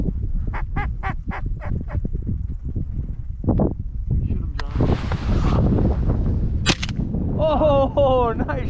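A 20 gauge shotgun fires during a duck hunt on public land in a snow storm, one sharp blast amid duck and goose calls, with people talking nearby.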